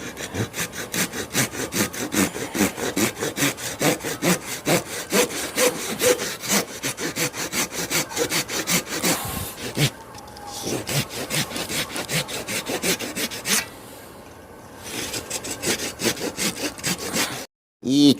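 A hand saw cuts through a bonsai trunk in fast, rhythmic back-and-forth strokes of rasping wood, close up, with two brief pauses midway and an abrupt stop at the end.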